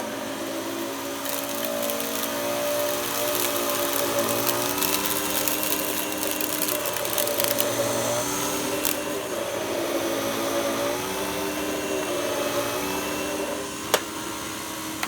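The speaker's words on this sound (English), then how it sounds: "let's finish off by vacuuming up this." PurePower vacuum cleaner running steadily on a floor to suck up scattered mess, a continuous close whirring motor drone with shifting pitch and a brief sharp click near the end.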